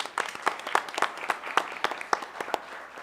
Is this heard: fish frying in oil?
no